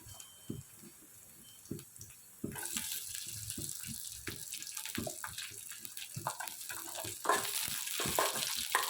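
Chopped chilies being stirred into a frying mixture in a pan, quiet at first, then a louder steady sizzle with scattered spoon scrapes and soft clicks, close by, no voices.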